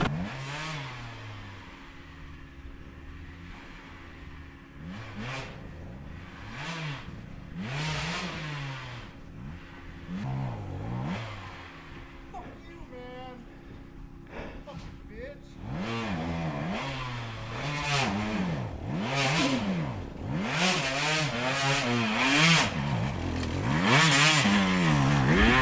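A KTM 125XC two-stroke dirt bike ridden at night revs hard through repeated throttle blips, its engine pitch rising and falling in quick sweeps, growing louder and more continuous toward the end with no talk.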